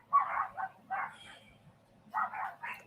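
A dog barks in short bursts, a few quick barks, a pause, then another cluster, faint and somewhat distant with no one speaking over it.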